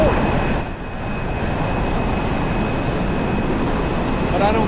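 A jet aircraft engine in the DCS combat flight simulator, heard as a steady, loud broadband roar with a faint high whine that holds for the whole stretch and dips only briefly near the start.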